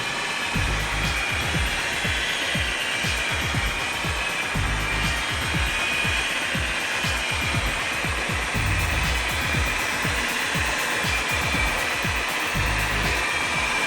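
A polishing pad buffs the clear coat on a pinball playfield with a continuous loud whirring hum, pulsing steadily as the pad sweeps back and forth across the surface.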